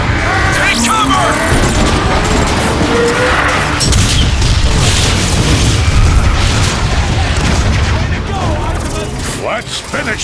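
An artillery strike pounds a marauder in the video game Transformers Fall of Cybertron. Heavy booms and crackling blasts pile up one after another in a loud, continuous barrage, with game voices talking over the chaos.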